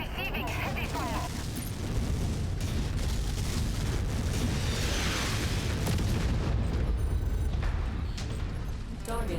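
Heavy fire in the MechWarrior 5 video game produces dense, continuous explosions and booming impacts layered with mechanical clatter, loud and close throughout, with a voice speaking over the barrage.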